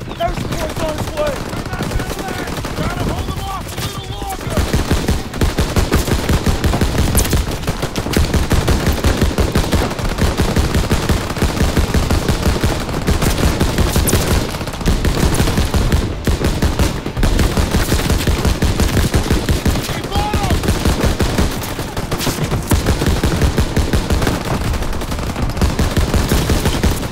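Call of Duty: WWII battle at the Bulge, heavy continuous machine-gun and rifle fire rattling loud and close for long stretches, with occasional voices shouting over it.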